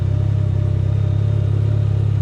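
A 2019 Can-Am Ryker Rally three-wheeler idles steadily to warm up, a close, loud, even engine rumble with a regular pulsing beat and no talking.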